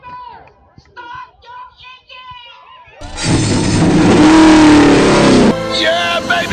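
NASCAR race car engines fire up at a race at Gateway, a dense loud roar that bursts in abruptly after a spell of voices and cheering, then holds steady with revving swells.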